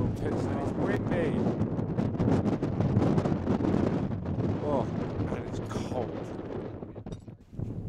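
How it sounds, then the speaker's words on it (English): Wind buffets the microphone on a Kilimanjaro trek in a steady broadband roar with gusty rumbles, loud and close, and no clear voices above it. "It's windy."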